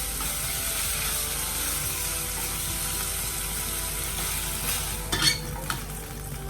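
Beef strips for a steak stir fry with bell pepper frying briefly in a pan, a dense continuous sizzle up close, broken near the end by a couple of clanks and scrapes of a utensil.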